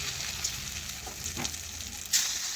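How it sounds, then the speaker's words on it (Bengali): Small spoonfuls of moong dal fritter batter frying in hot oil in a wok give a soft, steady sizzle with a few brief pops and crackles, fairly quiet and close, with no voices. "তেল গরম হয়ে গেছে। একটা চামচের সাহায্যে ছোট্ট ছোট্ট বড়া বা বড়ির আকারে দেখুন আমি দিয়ে দিলাম।"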